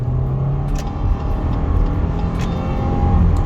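A 2015 Subaru Legacy 2.5 with automatic transmission accelerates hard from standstill toward 100 km/h, climbing uphill, its engine a steady, loud, close rumble with road noise heard from inside the cabin.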